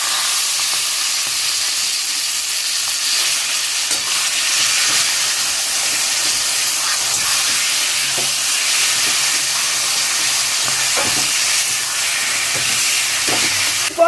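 Taro greens hit hot oil in a pan with green chilies, giving a steady, close hiss and sizzle that holds evenly throughout with light crackles and no voices.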